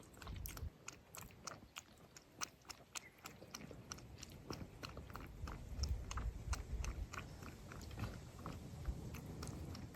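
A pet laps and chews tuna juice close by, the wet smacking and biting sounds coming in quick, irregular bursts, quiet and free of talk.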